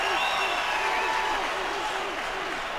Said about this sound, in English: Crowd is back into it.